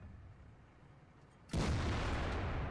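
A tank cannon fires once in World of Tanks from a Waffentrager Auf E-100, a sudden loud boom that cuts in and leaves a sustained rumbling roar behind it.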